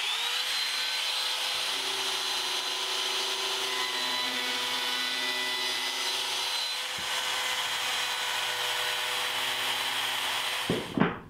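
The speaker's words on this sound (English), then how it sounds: "I'll use the router with a small round over bit." A router fitted with a small round-over bit shapes the bottom edges of wooden cabinet legs, its high steady whine and cutting rasp running nearly continuously at close range before a brief clatter at the end.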